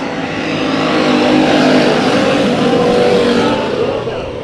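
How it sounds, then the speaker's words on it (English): Race cars roar off the green flag at the start of a Bakersfield Speedway heat race, a loud, dense engine howl that swells and holds steady before easing slightly near the end. "We go green for the 30 race."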